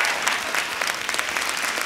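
Dense applause from an audience at a reality TV reunion gathering, a steady crackling wash of clapping hands sustained at even loudness throughout.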